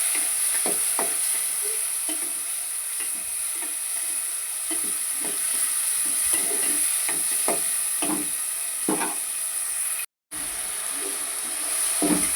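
Tomatoes sizzling and frying in a pan for Nellore fish curry, with a steady hiss under repeated scraping strokes of a stirring spoon; no talking.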